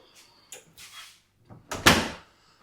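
A door in an Italian Airbnb apartment at Lake Garda opens and shuts, with a few faint knocks and shuffles leading to a single louder closing thud near the end.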